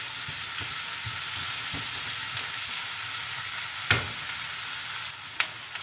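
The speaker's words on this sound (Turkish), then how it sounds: "Soğanlarımız güzelce kavruluyor." Onions fry in oil in a pan while making stuffed kibbeh (içli köfte), a steady close sizzle with occasional stirring clicks and scrapes and two sharp taps near the end.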